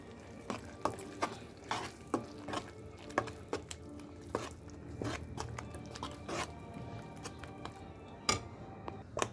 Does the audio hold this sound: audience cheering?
no